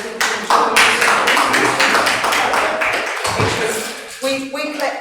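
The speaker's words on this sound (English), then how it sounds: "we clap like this in the chamber." Councillors clapping in a council chamber, a dense run of sharp hand claps at close range that holds steady and thins toward the end, with a voice briefly heard under it.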